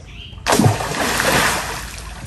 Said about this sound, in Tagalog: magtatabugaw po ng tubig.